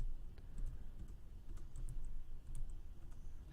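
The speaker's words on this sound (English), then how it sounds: "I'm trying to type in, so I can type in 10." Quiet clicking of computer keys as values are typed into a JavaScript program, scattered light taps over a low background hum.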